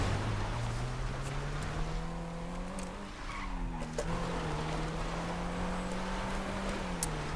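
A Mercedes-Benz 300 SL Gullwing drifts in GTA Online, its engine droning steadily with rising and falling pitch while tires squeal and skid, loud and close throughout.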